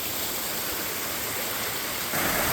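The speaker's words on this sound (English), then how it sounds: "Another waterfall." A waterfall in the wooded ravines along Abbott Run sends out a steady, full hiss of rushing water, close and constant, swelling slightly brighter near the end with no voices.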